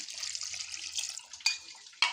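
Water pours steadily into a cooking pot holding ginger, with a bright splashing hiss, then a couple of sharp clinks or knocks near the end.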